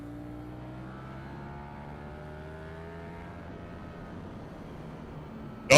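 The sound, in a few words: motorcycle accelerating with hard throttle entering a turn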